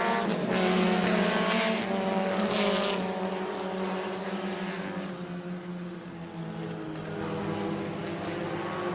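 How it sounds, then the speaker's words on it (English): Chevy Cavalier race cars run on the New Smyrna track, and their engines make a sustained, loud, droning roar with shifting pitch as the cars pass side by side. No voices are heard over it. "he gets the momentum, built back up in that Chevy Cavalier, pulled to the back bumper, Brandon Gaither."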